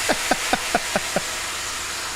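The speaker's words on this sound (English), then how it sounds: "That sound you're hearing are the airbags." Car air suspension airbags giving six quick, evenly spaced pneumatic puffs over a steady hissing background, close and fairly faint, with no voices.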